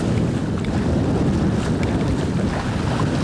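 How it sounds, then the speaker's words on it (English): Steady, loud wind roars across the microphone aboard a sailboat sailing in about 10 knots of breeze on the Ionian Sea, with a low rumble of water and hull beneath it and no voices. "After 1 hour on engine, the wind picked up a little bit."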